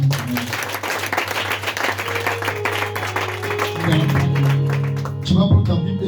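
A church congregation applauds in dense, loud, continuous clapping that swells and then gives way to mixed voices and a sustained tone near the end.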